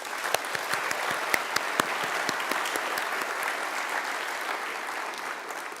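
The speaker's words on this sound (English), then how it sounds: "I think that deserves another round of applause" A conference hall audience breaks into steady applause, with dense clapping that starts with a few sharp claps and fades slightly toward the end.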